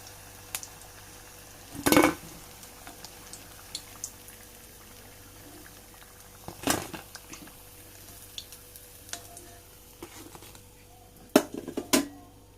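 Battered cauliflower snacks frying in hot oil and being scooped out, a soft steady bubbling sizzle broken by a few sharp clinks and scrapes of the utensil, with no talking.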